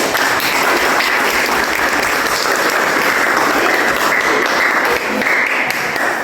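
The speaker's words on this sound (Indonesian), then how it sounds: "Oke, saya berikan tepuk tangan." A classroom of students applauds, dense continuous clapping that stays loud and even from start to finish with no talk over it.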